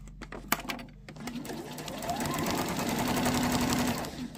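Sewing machine stitching fabric for a scissor pouch, starting with a few clicks and bursts, then running in a steady continuous whir that lasts to the end, heard close and fairly quiet.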